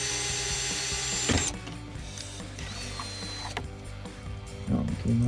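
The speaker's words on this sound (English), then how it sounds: "I'm just gonna start off with the 3/16 inch bit again." A power drill with a 3/16 inch bit bores out a rivet on a 2015-2023 Dodge Charger rear diffuser, a close, steady mechanical whir with a short burst and a ratcheting catch near the end.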